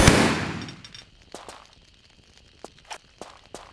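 Enemy gunfire in a Tomb Raider custom level game: a sharp burst at the start that trails off, then several short, separate cracks spaced irregularly over the following seconds, moderately loud with no talking.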